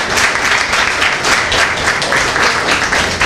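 Loud, dense audience applause at a Belize Cancer Society address, continuous clapping from a large crowd that stays steady throughout.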